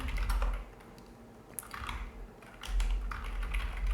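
Typing on a computer keyboard, quick clusters of light clicking keystrokes close by, with brief pauses and a low background rumble.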